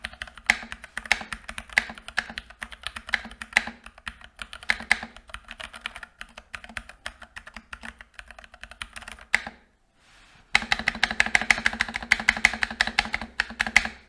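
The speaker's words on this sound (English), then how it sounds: "having modified the keyboard, it does sound slightly better now with these better switches in there, but it's still a bit pingy" Typing on a Womier WK61 mechanical keyboard modded with upgraded switches: a close, steady stream of crisp key clacks with a slight ringing ping, a brief pause, then another quicker burst of typing.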